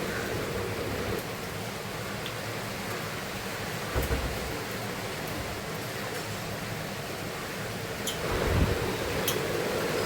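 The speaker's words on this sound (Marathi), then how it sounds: "आमच्याकडे मस्त पाऊस पडतोय मोठा मोठा" Steady, dense hiss of heavy rain pouring down without pause, with a few low thuds and a brief swell near the end.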